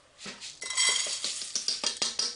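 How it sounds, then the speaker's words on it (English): Washed lentils tipped into a pot, a close patter and rattle of small grains against metal with light clinks, no voices. "put the washed lentils into this pot"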